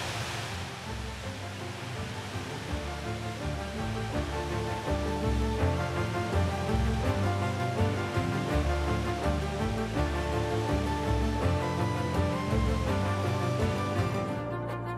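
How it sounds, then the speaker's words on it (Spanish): A steady, powerful roar of the Tronador waterfall on the Futaleufú River, Chile, constant and broadband, with no voices over it. "a conocer esta hermosa cascada que se llama Tronador"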